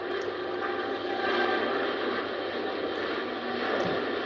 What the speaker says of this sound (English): And as I say, it's a Boeing 777.